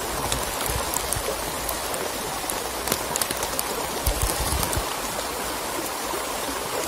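Steady rain hisses down on water and foliage during a rainy-season catfish fishing trip, an even, close wash of drops with no talking.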